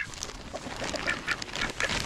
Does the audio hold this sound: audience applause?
no